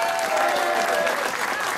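An audience applauds Corinne Douat, secretary and executive assistant, at her introduction, in a dense, sustained burst of clapping with a faint tonal sound over the first half.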